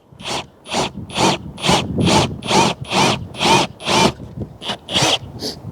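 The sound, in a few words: drilling into RV roof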